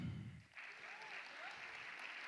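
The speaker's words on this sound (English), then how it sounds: "Clap it up" At a teen poetry slam in a theater, an audience breaks into applause after a low voice at the start, the clapping settling into a soft, continuous wash.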